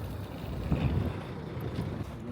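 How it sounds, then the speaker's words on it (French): Wind blows steadily outdoors on the island of Djerba, a continuous low rumbling buffet across the microphone with no clear pauses, moderately loud throughout. "Il y a un peu de vent"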